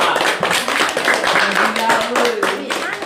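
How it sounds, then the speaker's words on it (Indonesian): A classroom group clapping steadily for a student group, mixed with overlapping voices and chatter in a lively room. "Kasih aplaus untuk kelompok 3. Tepuk tangan yang meriah."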